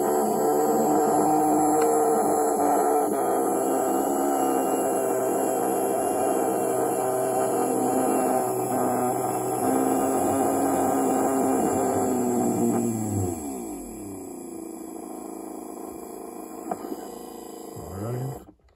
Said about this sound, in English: we're gonna test out the motor by